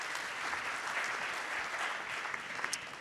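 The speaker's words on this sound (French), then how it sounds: "Vous pouvez aussi les applaudir." Audience clapping at an annual convention staged as a mock tribunal, applauding the prosecutor and defence lawyer; fairly quiet, even, continuous applause from a seated crowd with a few sharper claps near the end.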